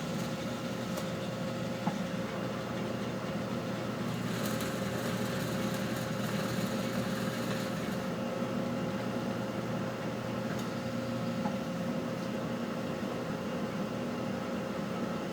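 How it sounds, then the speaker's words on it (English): A power drill with a brad point bit boring holes in a wooden router table fence, a continuous loud motor whine that holds steady throughout with slight changes in load, no talk. "Drill all of the holes for the router table fence."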